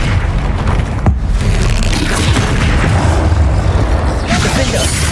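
Deep booming blasts from the Bombarda spell during a Hogwarts Legacy battle with a troll, heard amid dense, continuous combat noise, with rumbling impacts and voices mixed into the fray.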